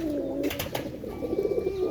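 Pet pigeons coo close by in a low, rolling, steady murmur that rises and falls through two seconds, with no voices.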